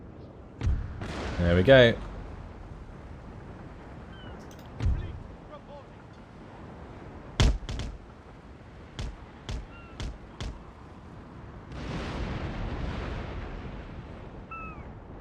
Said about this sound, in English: Big old broadside.